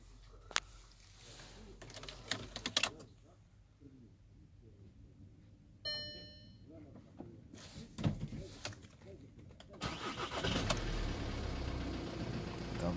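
A Volkswagen T6 van's engine cranks and catches after a faint electronic chime, settling into a steady idle close by, with scattered clicks and handling noises inside the cabin.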